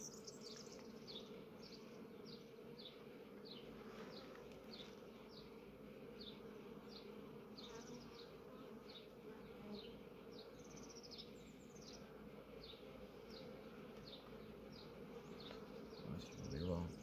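Honeybees in a Kenyan top-bar hive give off a steady, dense buzz, many insects humming at once close by, continuous and even throughout with no voices.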